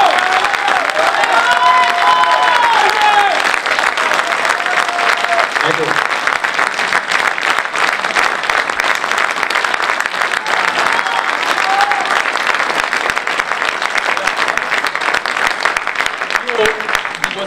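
Sustained audience applause at an Italian stage show, a dense, steady wash of clapping that fills the whole stretch at close range, with a few voices and whistles rising over it.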